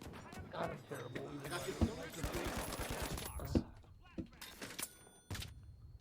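Gunfire from the shooter game The Finals, a string of sharp shots and bursts mixed with thuds and impacts, fairly loud and busy, with someone talking over the action.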